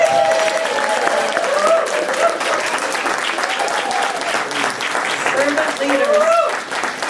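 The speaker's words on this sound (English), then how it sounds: "I just want to have us say yay or clap or shout or whatever you want to do" A crowd claps and cheers continuously at a gathering, the dense applause steady and loud throughout, with a voice speaking briefly over it.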